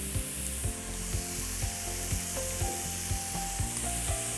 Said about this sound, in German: Den Knoblauch. Und das rösten wir jetzt ein bisschen an.